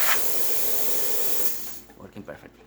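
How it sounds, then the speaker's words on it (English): A Zacconi espresso machine's steam wand, just fitted with a new pressurestat, blasts a loud, steady hiss of steam for about a second and a half, then shuts off, leaving quieter background sounds. "And as you can see, steam is working excellent."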